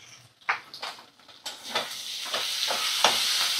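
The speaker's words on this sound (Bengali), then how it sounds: "মশলাগুলো ভালো করে কষিয়ে নেব।" Ginger, garlic and cumin paste with Kashmiri red chili powder frying in a pan, a close sizzle and hiss punctuated by repeated scraping stirs that grows steadier and louder.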